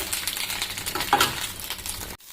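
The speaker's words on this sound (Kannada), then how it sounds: "ಒಣಮೆಣಸನ್ನ ಹಾಕಿ ಫ್ರೈ ಮಾಡಬೇಕೀಗ." Dried red chillies fry with greens in a pan for sambar soppu gojju, a continuous moderate sizzle with stirring scrapes and a brief clink partway through, cut off just before the end.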